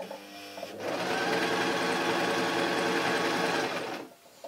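A sewing machine stitches a hot water bottle cover with simple running stitch, a loud continuous close-up whir for about three seconds before stopping.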